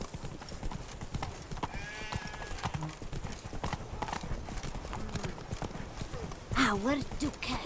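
Roach, the horse in The Witcher 3 video game, gallops with a steady, rapid clip-clop of hooves under spoken dialogue, followed by a loud whinny near the end.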